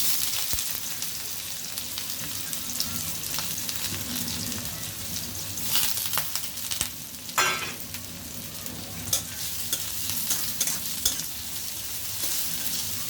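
Chopped onion frying with black cumin in a pan, a dense, steady close sizzle with periodic scraping bursts of stirring and no voices.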